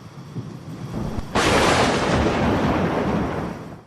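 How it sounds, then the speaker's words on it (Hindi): A loud crack of thunder bursts out of a quieter rumbling storm background and rolls on as a sustained, heavy roar, with no voices present. "बादल गरज और चमक रहे थे, बिजलियां कड़क रही थी और मौसलाधार बारिश हो रही थी।"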